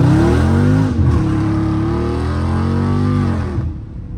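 A Scat Pack car's engine roars loud and close while drifting, holding a high rev for several seconds before the pitch sags and the sound drops away at the end.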